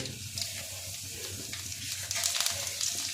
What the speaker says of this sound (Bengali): ফোড়নে আমি 2টো শুকনো লঙ্কা দিয়ে দেব, আর দিয়ে দেব কিছুটা কালো জিরে।